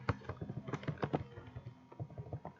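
Assembly code is typed on a computer keyboard, a close, quick patter of key clicks in bursts with a brief pause midway, and no talking.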